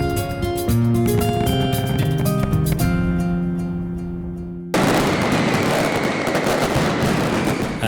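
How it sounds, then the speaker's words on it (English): Fireworks at the Nit del Foc during the Fallas festival in Valencia: after a stretch of music, a loud dense barrage of crackling explosions takes over and fills the rest of the scene. "During the Nit del Foc, the best fireworks professionals compete in a duel of light and color."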